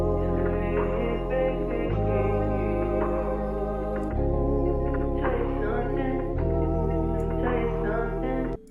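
Beat loop built in Ableton Live, with sustained pads and layered hummed vocal melodies over heavy low bass that shifts pitch every couple of seconds, a steady dense mix playing on its own without talk.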